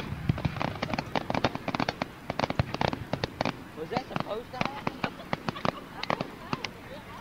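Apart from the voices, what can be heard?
fireworks all going off at once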